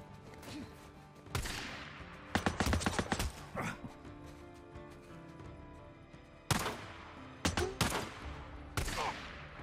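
Gunfire in the Days Gone video game: several bursts of loud, sharp shots crack out in clusters, with quieter ambient stretches between volleys and no talking.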